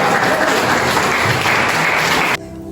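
A church congregation breaks into dense, loud applause during a sermon, sustained for a couple of seconds before cutting off abruptly.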